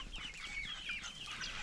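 Chickens cluck softly in a backyard where chickens and ducks scratch through the ground, with a few overlapping short clucks close by.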